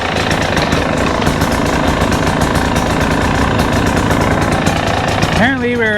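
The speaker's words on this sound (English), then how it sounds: "it's running. We're gonna let that idle for a minute here" A KTM 300 two-stroke dirt bike engine, freshly started after a top end rebuild, idles loud and close with a steady rapid putter, then briefly revs at the end.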